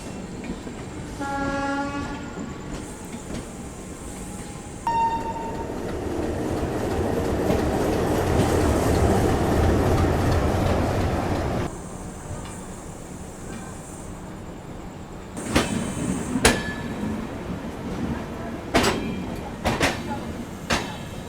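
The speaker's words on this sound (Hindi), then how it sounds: "प्लेटफॉर्म नंबर 3 से निकल रही है फिरोजपुर धनबाद गंगा सतलज एक्सप्रेस।" The Ganga Sutlej Express, the Ferozepur–Dhanbad train, pulls out of platform 3 at an Indian railway station. Horn tones sound first, then a long rumble of rolling wheels builds and fades, followed by sharp clanks and bangs amid the station bustle.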